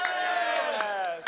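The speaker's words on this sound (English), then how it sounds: "The people are cheering for Dolphin to take the hit." Crowd at an RGL LAN gaming event cheering and yelling together, a loud sustained roar of many voices lasting about a second before cutting off.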